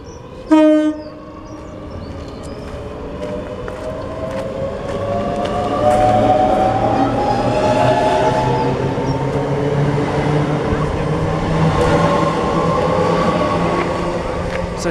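Class 365 electric train departing a station on the London King's Cross to Peterborough line: a short single horn tone near the start, then the train's hum and rumble building steadily as it pulls away.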